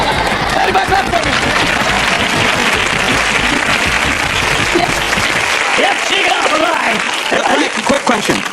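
Audience clapping at a live show, dense sustained applause filling the room at close range, with scattered voices and chuckles mixed in before it thins near the end.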